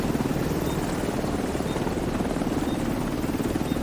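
Extraction helicopter in The Division 2 video game, a steady, close rotor thump and engine drone that holds throughout at even loudness.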